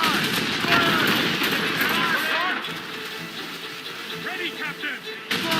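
Ship cannons firing in a naval battle in the video game Assassin's Creed Rogue, with booming volleys rumbling over one another under loud shouting voices.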